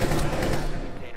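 Dense rapid gunfire in Rainbow Six Siege crackles in a fast continuous burst, loud and close, with a voice mixed in.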